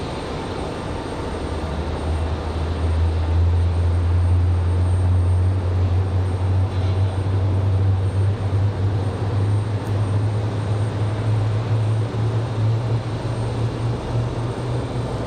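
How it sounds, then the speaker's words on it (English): A Gulfstream business jet's engines drone steadily at the airport, a loud, continuous low roar lasting the whole stretch without talk. "that's a big exec jet. Big old Gulfstream that came in a moment ago"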